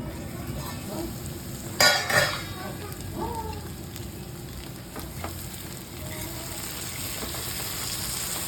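Brinjal curry stir-fried in a pan, with a steady frying sizzle and a brief loud scrape of stirring near the start, then continuous sizzling and faint clatter.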